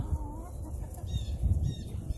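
A rooster clucks softly and intermittently close by, low throaty calls over faint outdoor background noise.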